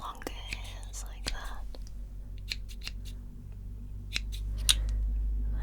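Scissors trimming longer hairs at a barber shop, several sharp close snips spaced irregularly under soft whispered speech, with a low steady hum.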